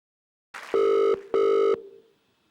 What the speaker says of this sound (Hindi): जहां प्रिंस करेंगे एक लाइव फोन कॉल एक मिनरल वाटर सप्लायर को